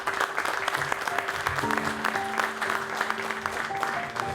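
An audience at a technical presentation applauds steadily and evenly throughout, a dense patter of many hands joined by a faint steady hum.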